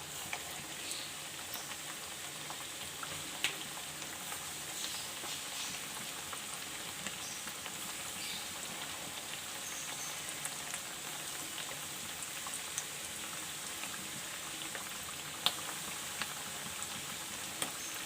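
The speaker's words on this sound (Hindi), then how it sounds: "आलू हमारा बॉयल है, बस हमें इसे फ्राई करना है इस तरीके से।" Boiled potatoes fry in hot oil, giving a steady, even sizzle with scattered small pops and crackles, fairly quiet and close, with no talk.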